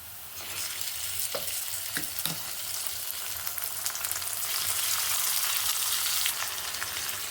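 Marinated mutton fries in a pan with reddened onions for mutton vindaloo. A loud, continuous close sizzle carries a few sharp spatula knocks near the start, with no voices.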